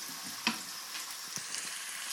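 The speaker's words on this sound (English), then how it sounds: "Now, we've got to let this sizzle for a little longer." Fajitas frying in a hot pan, a steady broadband sizzle with a few sharp pops and crackles, close and continuous with no talking.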